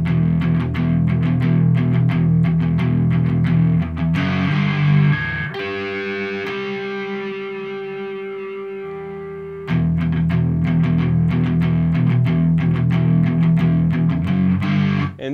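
Distorted electric guitar chugs a riff at full volume, breaking midway into ringing harmonics and a sustained bent note before the driving galloping rhythm returns, no talking.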